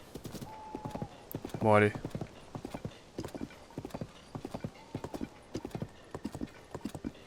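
Horse hooves clip-clop in Zelda Tears of the Kingdom, a steady rhythmic patter under game music, with a brief whinny partway through while a person talks over it.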